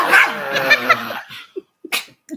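A dog barks and growls loudly and close up for about a second, then gives several short, sharp yips and huffs with brief gaps between them. It reacts while someone is being shaken playfully.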